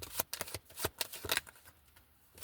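Tarot cards are shuffled close by in quick riffling bursts, several sharp papery flutters in the first second and a half, then fading to quiet handling.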